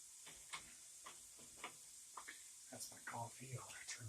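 Potatoes deep frying in oil for double-fried fries give off a faint, steady sizzle with soft crackles and occasional clicks, heard quietly at a distance.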